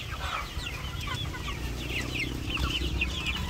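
Chickens on a breeding farm in the Philippines, white barred rocks, cluck steadily, with several birds layered over a constant low farmyard hum and no talk.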